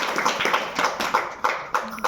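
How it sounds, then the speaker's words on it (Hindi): An audience claps hands in a steady, rhythmic beat, about eight evenly spaced claps at moderate volume in an indoor class setting, with no talking over them. "अब ताली बजाओ।"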